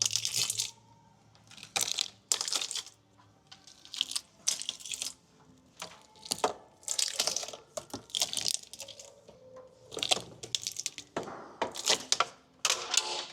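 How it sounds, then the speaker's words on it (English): An old J mould strip is torn off a wall beside checker plate during a reseal job, giving a series of close, sharp cracking and tearing bursts in uneven rhythm with short pauses between pulls. No one speaks. "So we can just go and rip that mould down."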